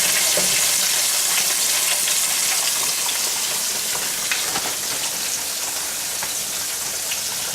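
Buttermilk-coated pork chops deep frying in hot oil, giving a continuous dense crackling sizzle with scattered pops, close and steady throughout.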